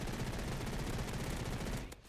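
Dense, continuous gunfire from the Roblox shooter Energy Assault roars at close range without a break, then cuts off abruptly just before the end.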